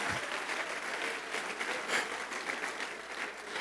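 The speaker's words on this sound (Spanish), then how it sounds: "Dale un aplauso, Señor." Applause from a church congregation, steady clapping that rises briefly in the middle, moderately loud and continuous.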